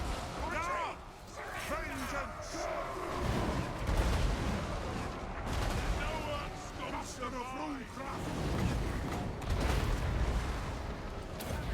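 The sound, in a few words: weapon teams firing in video game Warhammer 2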